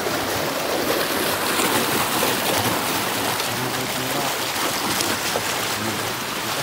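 Strong irrigation water rushing down from the mountain through a farm canal, a loud, steady broadband roar of flowing water throughout with no letup.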